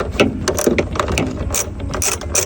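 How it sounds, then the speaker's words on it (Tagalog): A ratchet wrench removes the headlight bolts on a Suzuki DA16T Multicab, making quick, close metallic clicks in a steady, uneven run of strokes. "tanging dalawang bolt na tatanggalin mo para matanggal mo mismo yung headlight unit mo yan so tanggalin natin to"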